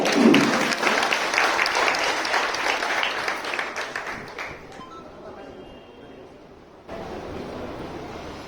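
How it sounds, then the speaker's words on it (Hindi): A crowd at a women's gathering in Uchana applauds a guest, a loud, dense ovation that gradually thins and fades, followed by a quieter stretch of room noise and distant voices. "एक बार जोरदार तालियां"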